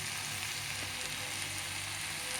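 Ivy gourd (dondakaya) pieces frying in a pan before going into dal, giving a steady, close, even sizzle that holds without a break and with no voices.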